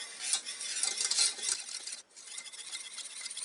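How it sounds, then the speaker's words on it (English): Milk sauce for a cheese soufflé cooking over medium-low heat and being stirred constantly in a pot, a soft, continuous scraping and swishing with a brief pause midway, close and fairly quiet. "keep cooking this for 2 minutes until it thickens, stirring it constantly"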